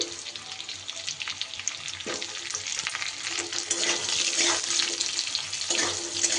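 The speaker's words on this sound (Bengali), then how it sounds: "সবার প্রথমে দিয়ে দিচ্ছি কেটে রাখা আলু।" Cut potatoes are tipped into a pan of frying onions, setting off a loud, continuous sizzle with a few sharp clatters of the vegetables landing and being stirred.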